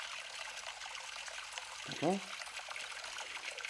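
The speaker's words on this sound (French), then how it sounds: "Ou alors, je vais demander la rivière." An AI-generated flowing river makes a soft, continuous rush of water, heard faintly throughout while someone briefly speaks over it.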